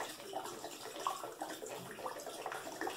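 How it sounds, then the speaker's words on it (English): Water is poured over beets and salt for kvass, a soft continuous splashing and trickling that sounds close and fairly quiet. "And water to cover."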